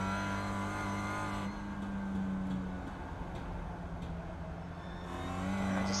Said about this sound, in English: Just a lot of throttle work in those first few corners